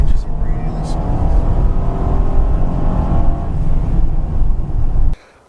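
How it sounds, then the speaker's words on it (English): A 2014 Honda Pilot AWD accelerates hard, its engine droning loud and steady from inside the cabin before the sound cuts off abruptly near the end. "Let's see how this gear changes really smooth."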